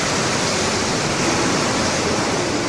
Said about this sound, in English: That's water coming out of the elevator shaft.